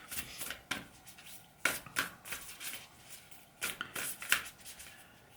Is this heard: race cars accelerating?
no